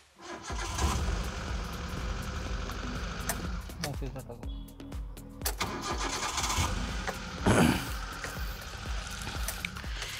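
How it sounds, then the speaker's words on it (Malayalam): A used 1.0-litre Hyundai Santro Zip Plus petrol car engine cranks and starts, then settles into a steady idle, with a person talking over the engine throughout. "നമ്മൾ ജസ്റ്റ് വണ്ടി സ്റ്റാർട്ട് ചെയ്യാം"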